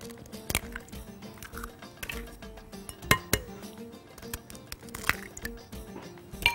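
Four eggs are cracked into a bowl for a fried cheese toast batter: sharp shell clinks against the rim followed by wet drips and squishes, several close separate taps with no talking.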